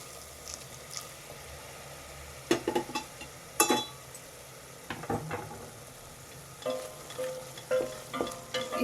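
Spices frying in a pan for chana masala as hot water is poured in, a steady sizzle with a few sharp bursts and scraping clatters, close and alone.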